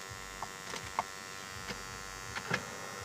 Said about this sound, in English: Got the humming noise in here.